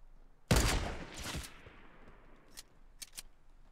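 Gunfire in the Fortnite video game opens with a loud rapid burst, then trails off, followed by a few sharper single shots spaced apart near the end.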